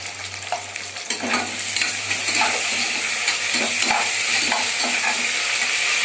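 Sliced onions frying with ginger garlic paste for biryani, a loud, close, continuous sizzle with scraping spoon strokes against the pan as they are stirred.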